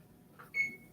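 A kitchen timer is set during home canning on a stove, giving one short, clear electronic beep after a faint click.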